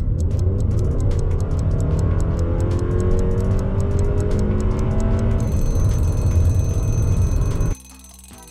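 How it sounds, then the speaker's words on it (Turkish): Toyota RAV4 Edge engine running steadily with a continuous low rumble and rising, shifting tones, loud and close, cutting off abruptly near the end. "Toyota RAV4 Edge sizden bulmanızı istediğimiz araba modelidir."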